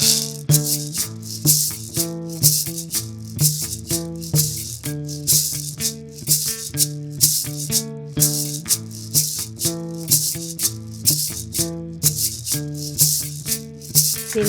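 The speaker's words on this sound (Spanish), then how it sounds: "la maraca colombiana" Colombian maraca shaken in a steady rhythmic pattern of crisp rattling bursts over a musical backing, close and prominent throughout.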